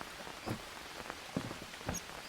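Rain falls steadily in the survival video game Green Hell, a soft continuous patter with a few louder drops, heard close and alone without voices.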